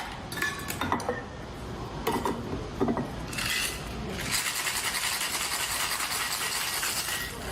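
Ice rattles in a cocktail shaker: a few sharp clinks and taps, then a steady rapid shaking rattle that continues to the end, close and fairly loud.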